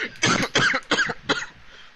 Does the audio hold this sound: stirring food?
no